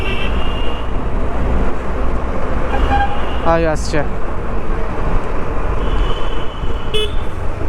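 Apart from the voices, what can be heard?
bus honking its horn in road traffic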